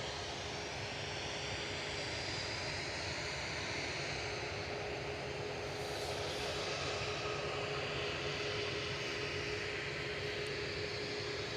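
Jet engines of airliners at Manchester Airport, including an Etihad Boeing 777 being pushed back, produce a continuous heavy roar with a thin steady whine, swelling slightly louder toward the end.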